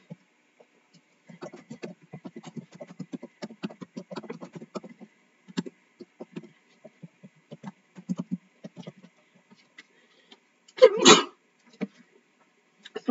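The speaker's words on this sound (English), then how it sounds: "Sorry, just had to sneeze." A single sharp sneeze bursts out loudly near the end, after a stretch of scattered soft clicks and taps from a computer keyboard during a Hypixel Build Battle game.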